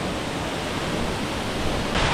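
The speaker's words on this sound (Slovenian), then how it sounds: "največjemu in najbolj čudovitemu slapu na potoku Ukanška Suha" A large two-stream waterfall on the Ukanška Suha creek, carrying plenty of water, roars as a dense, steady rush that stays loud and close throughout with no voices.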